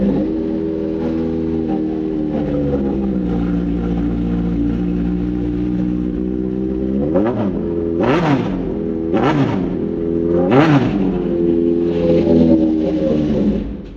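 A motorcycle fitted with a titanium slip-on exhaust idles with a loud, deep burble, then revs sharply four times in quick succession, each blip rising and falling, before settling back to a rumbling idle.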